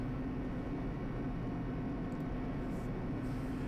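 A steady, dense low mechanical rumble from an elevator descending in Danganronpa Trigger Happy Havoc, droning evenly throughout at moderate loudness with no speech.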